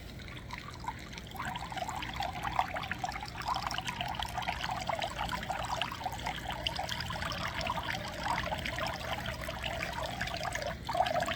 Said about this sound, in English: I'm going to go hit the pump